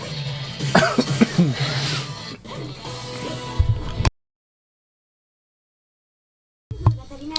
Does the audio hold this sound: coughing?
yes